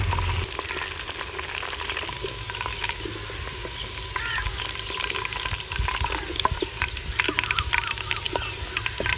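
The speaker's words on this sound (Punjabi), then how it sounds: "ਪਿਆਜ਼ਾਂ ਨੂੰ ਥੋੜਾ ਜਿਹਾ ਸੋਤੇ ਕਰਾਂਗੇ," Onions frying in oil for a village-style chicken karahi cooked in a clay handi, a continuous bubbling sizzle with scattered crackles and pops, close and steady throughout.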